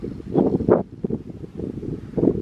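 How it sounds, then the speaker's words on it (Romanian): Wind gusts buffet the microphone at one of the highest points in Hampi, India, coming in uneven rumbling bursts that swell and drop away, with no voices. "Ai, bate vântul aici."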